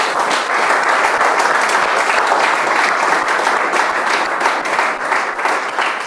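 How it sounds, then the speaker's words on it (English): A large audience claps loudly and continuously at a student founders' contest event, a dense, even wash of applause that runs the whole length without talk. "Also, please give them a big applause."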